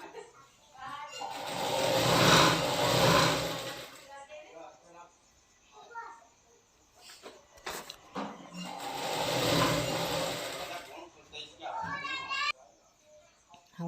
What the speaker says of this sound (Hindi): पहले पाँव इंच फिर पाँव इंच हमें इस तरह से फोल्ड करना है, मोड़ लेना है और इस तरह से हमें सिलाई लगानी है।